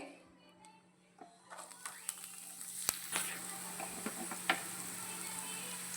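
Spring onion and spices frying in hot oil, a sizzle that builds after a quiet start with sharp spoon ticks and scrapes scattered throughout, close and moderately loud.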